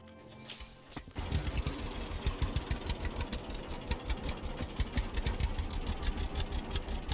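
Old tractor hauling a hay wagon in Farmers Dynasty, its engine stuttering with an uneven, knocking idle that runs steadily loud after a brief start-up rise.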